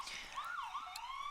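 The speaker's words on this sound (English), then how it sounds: "every time I go to record a live video, we can hear the sirens" An emergency vehicle siren from a nearby hospital wails in rising and falling sweeps, faint and somewhat distant, heard alone without talk.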